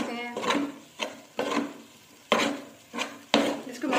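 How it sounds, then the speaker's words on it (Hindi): A spoon stirring and scraping a flour mixture as it roasts in desi ghee in a pan for halwa, rhythmic rasping strokes repeating every second or so, close and clear with no talking. "हमने मुसलसल चम्मच चलाना ताकि ये घी से लगे नहीं"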